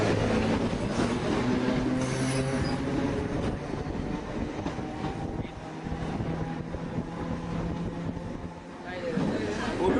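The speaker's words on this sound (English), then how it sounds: "let's see what life looks like on the 8:32 a.m. train into Bombay" A packed Churchgate Fast commuter train runs into Bombay on the 8:32 a.m. service, giving a steady loud rumble and rattle of the carriages with wind rushing past, and voices chattering faintly throughout.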